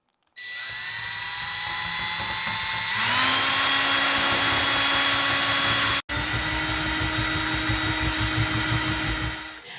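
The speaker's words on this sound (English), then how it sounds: "The drill bit gets warm. We're going to enlarge the one hole." A power drill whirs steadily up close while enlarging a hole, its pitch rising as it bites harder, with a brief cutout before it keeps grinding on.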